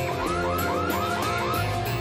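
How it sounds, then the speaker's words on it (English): A car alarm wails in a rapid, repeating rising tone, about six quick cycles in two seconds, close and steady with no voices. "And activate the alarm."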